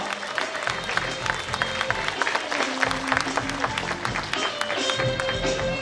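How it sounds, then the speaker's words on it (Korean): An audience at a book launch event in Yeosu claps as a former presidential personnel secretary is welcomed, a dense, steady patter of hands with crowd murmur underneath, fairly near and sustained throughout. "여러분 박수 한번 크게 주시면 고맙겠습니다."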